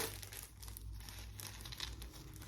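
A plastic pouch crinkles steadily for a couple of seconds as a thin metal anklet is slid out of it, a close, soft rustle with no talking.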